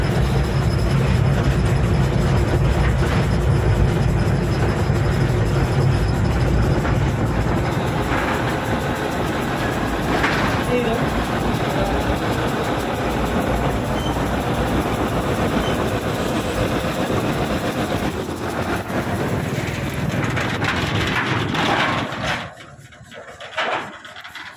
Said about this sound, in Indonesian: akhirnya lokomotif D9 sudah sampai di crossing perempatan rel Pondok Jeruk